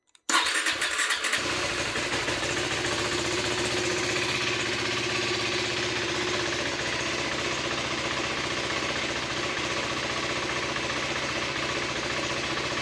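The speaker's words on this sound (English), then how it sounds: "That's a cold start." A 2025 KTM 390 SMC R motorcycle cold starts: a brief starter crank is followed by the single-cylinder engine catching and settling into a loud, steady idle that runs on without a break.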